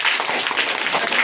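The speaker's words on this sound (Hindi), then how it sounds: "ताली मारिए।" A group of children in a classroom quiz claps hands together in a dense, loud, continuous burst of applause, close and filling the whole short moment.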